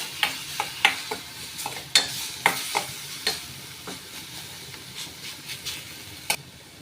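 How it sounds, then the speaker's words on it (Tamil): Spices sizzle in hot oil for tomato rasam while a spoon scrapes and stirs the pan in irregular clinks and scrapes, close up, with no talking. "நல்லா வதக்கி விட்டுக்கோங்க எண்ணெயில்"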